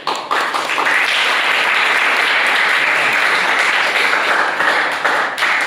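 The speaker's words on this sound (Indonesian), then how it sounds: "Ya, aplaus dulu ya." A lecture-class audience in an agrarian sociology course claps together in sustained, dense applause that runs loud and steady from start to finish.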